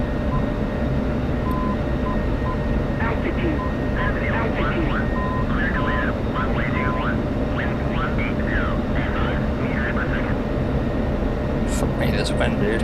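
An F-16CM jet in Digital Combat Simulator makes a loud, constant engine drone while coming in to land, with radio voices talking over it.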